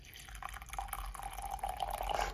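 Hot water is poured into a cup to make coffee, a quiet continuous trickle that rises slightly as the cup fills, heard close and alone.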